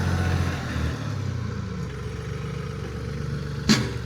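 A borrowed tractor's engine runs steadily while clearing land near a driveway entrance, a continuous low, rough drone with one brief sharp clank near the end and no talking.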